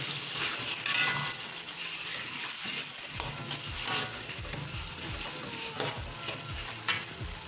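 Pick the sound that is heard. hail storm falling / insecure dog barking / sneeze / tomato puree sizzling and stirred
tomato puree sizzling and stirred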